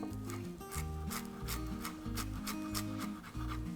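A chef's knife finely chops parsley on a board with quick rhythmic rocking strokes, each one a close, crisp tap repeating about twice a second, with a low steady tone underneath.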